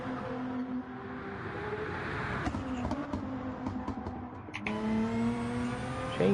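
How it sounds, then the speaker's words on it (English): A Lexus race car runs down Bathurst's Conrad Straight during the 12 Hour endurance race, its engine a steady, fairly distant drone with a pitch that slides and jumps at a gear change, then climbs again. "that Lexus in second place, which is making its way down the Conrad Straight"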